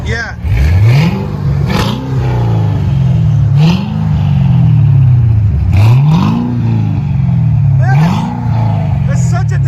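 A 2009 Cadillac CTS-V with a supercharged 6.2L V8 and Black Widow Race Venom dual exhaust revs repeatedly, four loud rising and falling blips in steady rhythm, close by, with people talking over it.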